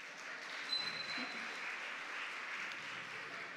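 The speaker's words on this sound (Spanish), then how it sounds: "Fuerte el aplauso." Audience applause at a regional school oratory contest award ceremony in Herrera province, Panama, moderate steady clapping from a crowd, slightly distant, with a brief high tone near the start.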